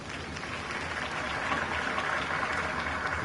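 Steady applause from a large crowd in a video game, dense and continuous throughout, with no voices standing out above it.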